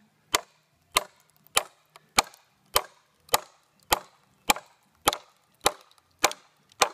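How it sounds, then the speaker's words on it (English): Wood logs being split for bow staves, a rhythmic series of about twelve sharp cracking knocks spaced roughly half a second apart, each with a brief splintering tail, close and alone with no talking. "You can hear the wood cracking."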